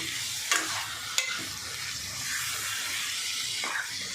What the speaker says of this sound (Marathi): तेलामध्ये परतून घ्यायचं